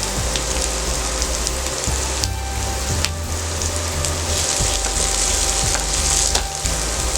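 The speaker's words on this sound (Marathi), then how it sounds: "फुल गॅसवरती आपण हे कांदा परतून घेणार आहोत" Two small onions with curry leaves and three green chillies sautéing in a pan over full flame, a loud, steady, close sizzle with faint clinks of stirring and no talk.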